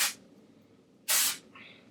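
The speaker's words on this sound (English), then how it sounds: "I'll just spray it through the actual curls, and then I'll put some in the top of my head as well" Hairspray hisses from an aerosol can through curled hair in two short, close bursts, the second longer, with a quiet pause between and no talking.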